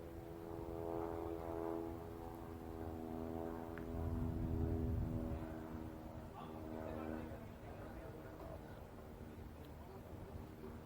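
A propeller airplane, N8344T, runs its engine after about six years out of service, giving a steady droning hum with a slight swell midway, heard alongside talking voices.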